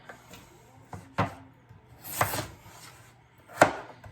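Knife chopping vegetables into bite-sized pieces on a board for beef barley soup, heard as a few separate, sharp close-up chops spaced irregularly with quiet gaps between.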